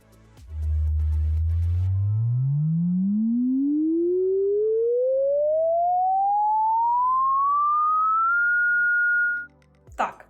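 A single smooth tone glides steadily upward from a deep low pitch to a high one over several seconds, then cuts off.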